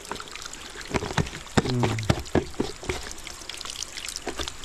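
Water pours and splashes unevenly, with trickling and dripping sounds and scattered sharp drops nearby.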